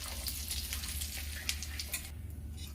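Cumin and asafoetida roast in hot oil, producing a close, busy sizzle and spitting crackle with quick bursts of popping, heard alone without speech.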